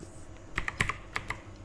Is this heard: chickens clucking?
no